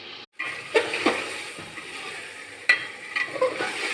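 Chicken pieces coated in yogurt for Moradabadi biryani are stirred in a pot, giving soft wet scrapes and a few sharper clicks of the spoon against the metal, quiet and close.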